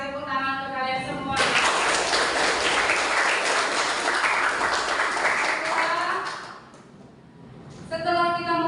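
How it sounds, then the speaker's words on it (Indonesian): A classroom of students claps together in a loud, dense burst lasting about five seconds, framed by a teacher's voice speaking before and after. "tepuk tangan untuk kalian semua"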